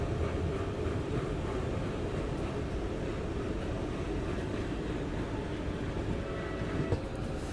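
A Jhansi shed ALCO diesel locomotive shunting, a constant low engine rumble and rail noise at moderate distance. A brief sharper sound comes near the end, and there are no voices.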